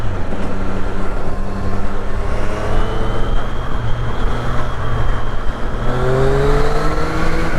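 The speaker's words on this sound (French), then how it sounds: "Pardon, le camion." A truck rumbles past on the road, a heavy, loud engine drone building and fading beside a Triumph Street Triple RX motorcycle riding along, with steady engine and wind roar throughout.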